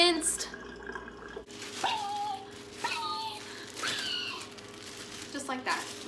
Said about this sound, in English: You flick it on hot water.